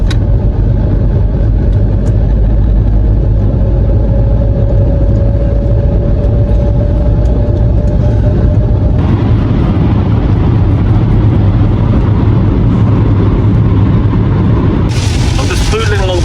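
A car cruises at about 56 miles an hour behind a lorry on a road in France, giving a steady, loud low rumble of engine and tyre noise that runs throughout, with a voice talking over it.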